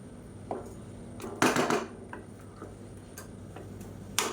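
Soaked basmati rice is stirred in a pressure cooker for egg biryani, with sparse, quiet clinks and scrapes of a spoon against the metal pot.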